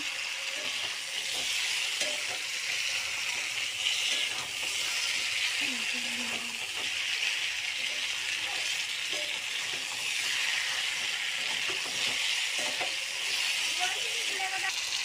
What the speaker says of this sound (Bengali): মাংসটা কষা প্রায় হয়ে গেছে